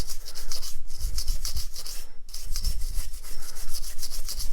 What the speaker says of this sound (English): what I'm going to do is take my nylon brush and scrub